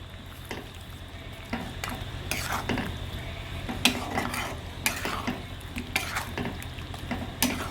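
A spoon scrapes and stirs gongura chicken in a frying pan, with soft sizzling underneath and several sharper utensil clinks against the pan at irregular intervals.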